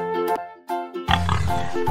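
A pig grunting, a few short nasal grunts followed by a louder, rougher run of grunts, close by.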